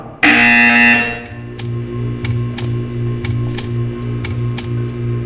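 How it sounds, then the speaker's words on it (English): A loud, steady electronic buzzer from the video game Portal 2 blares for about a second, then gives way to a low hum with a series of sharp, regular clicks. "When you hear the buzzer, stare at the art."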